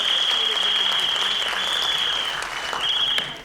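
Dense, sustained applause from an audience at a kindergarten annual day, steady and continuous throughout with a high ringing tone and some crowd noise underneath.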